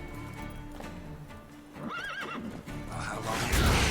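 Horse in The Witcher 3 video game, galloping with rhythmic hoofbeats and giving a loud whinny, amid game combat noise and a voice speaking.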